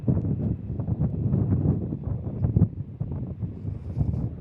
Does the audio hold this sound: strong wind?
yes